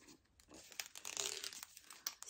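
A block of satin-finish paper sheets being pulled open, giving close, crisp crinkling and tearing rustles in irregular bursts that peak midway.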